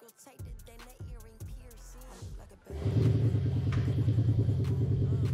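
A Mercedes W213 engine fitted with a Panthera active exhaust starts up into a loud, steady rumbling idle, following a few short voiced sounds from nearby.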